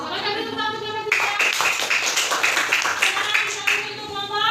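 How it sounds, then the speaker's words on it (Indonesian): Classmates in a classroom clap for a student group after its presentation, a steady burst of applause lasting several seconds, with a teacher's voice over the start and end. "beri tepuk tangan untuk kelompok tiga."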